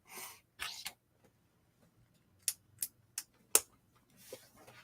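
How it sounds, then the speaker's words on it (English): A few sharp sneezes in a quiet room, the first ones close together, then four quick separate bursts spaced about a second apart. "I feel a sneeze coming on."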